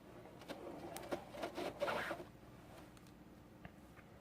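Scraper rubbing tar off a Mazda 6 headlight, a faint, close scratching that builds into a denser rasping stretch before fading, with no talk.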